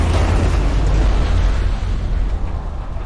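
Heavy rumbling explosion from a rocket launcher in the video game Detroit: Become Human, a loud sustained low boom lasting the whole moment with no talk over it.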